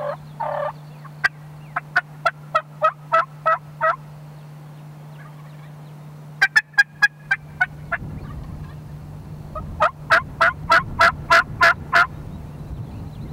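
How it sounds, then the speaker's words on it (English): Wild turkeys gobble in repeated bursts at a Texas turkey hunt, several birds calling from different distances, some gobbles loud and near, others fainter, with a steady low hum underneath. "We got birds gobbling all around us."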